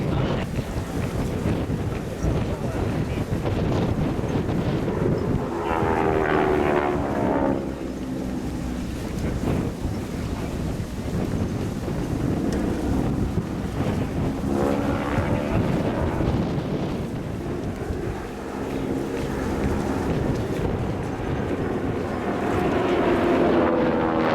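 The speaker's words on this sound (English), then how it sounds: "the four aircraft formation that we're watching at the present time" A four-aircraft formation at the Australian International Air Show 2009 makes a broad, heavy engine roar mixed with wind noise, swelling and fading in repeated waves as the planes pass, with no voices.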